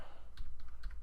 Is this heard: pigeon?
no